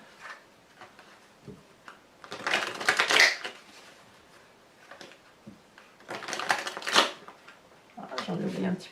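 Tarot cards being shuffled, handled and laid down on a table during a reading, with soft papery rustles and slaps in short bursts between stretches of quiet talk.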